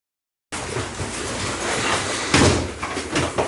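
A trick door slides open with a loud, steady rushing rumble that starts abruptly and swells into a heavier thud partway through, all close by.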